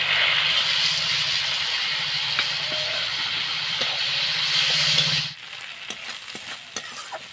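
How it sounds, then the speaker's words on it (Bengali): Dried bhola fish sizzles and spits steadily in hot oil in a wok, a close, loud frying hiss with a few stirring clicks, the sizzle dropping sharply quieter near the end. "ভোলা মাছটা ভালো করে ধুয়ে নিয়েছি, এবার ভেজে নিব"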